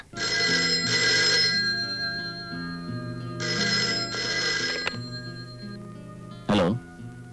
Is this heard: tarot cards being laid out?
no